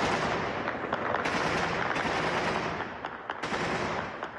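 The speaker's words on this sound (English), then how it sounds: "I discovered that gunfire is an almost daily occurrence in the Afghan capital." Dense, continuous rattling bursts of distant gunfire in Kabul, Afghanistan, loud and sustained with sharp cracks standing out near the end, no voices.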